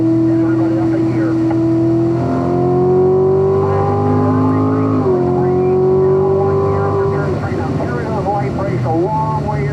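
A Corvette Stingray on a race track accelerates hard out of a corner, its engine note climbing steadily in pitch, briefly dropping at a gearshift and rising again, loud and close under a speaking voice.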